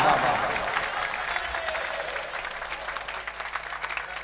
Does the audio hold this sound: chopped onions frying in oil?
no